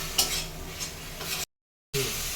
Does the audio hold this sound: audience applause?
no